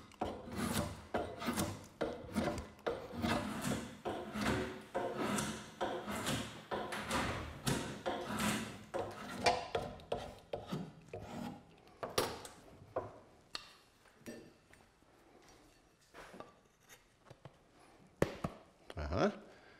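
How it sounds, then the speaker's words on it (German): A drawknife shaving wood away along an axe handle during hafting, producing steady rhythmic rasping strokes up close, with a few knocks and thumps and brief talk as the pace slows toward the end. "Und verwende wieder mein Zirchmesser und schnitze das da weg."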